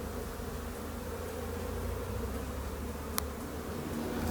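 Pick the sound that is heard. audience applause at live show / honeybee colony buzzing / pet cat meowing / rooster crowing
honeybee colony buzzing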